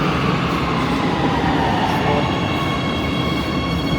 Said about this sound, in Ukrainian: Так, мій потяг проїхав.